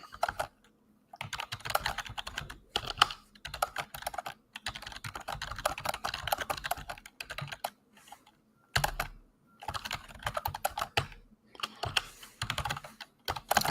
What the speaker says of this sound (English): I'm just typing a message here